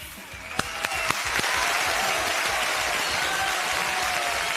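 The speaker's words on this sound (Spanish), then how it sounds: "Un fuerte aplauso para recibir al bloque del Paraguay Poderoso, al doctor Fernando Griffith" A studio audience on a Paraguayan television program applauds to welcome Dr. Fernando Griffith, opening with a few distinct claps that swell into steady, sustained applause.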